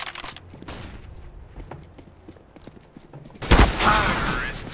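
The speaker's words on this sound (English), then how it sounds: "Throwing flashbang." A flashbang thrown in CS:GO goes off as a sudden loud bang after a stretch of scattered, crackling gunfire, followed by a lingering high ringing tone and noise.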